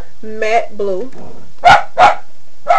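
A dog barks indoors, first a couple of whiny yips and then three sharp loud barks, with someone briefly talking between them.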